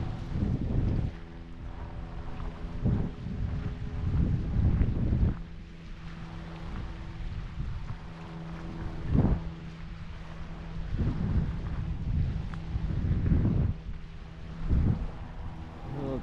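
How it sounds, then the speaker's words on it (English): Strong wind gusts buffet the microphone outdoors by the water, where a DF 95 radio-controlled sailboat is sailing, with a steady low hum running underneath the repeated loud rushing bursts. "A lot windier out there"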